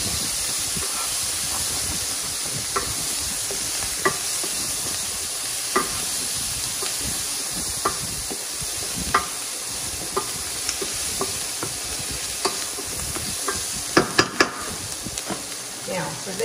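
Real butter sizzles in a hot stir-fry pan, a loud continuous hiss punctuated by sharp, scattered pops and crackles that bunch up toward the end.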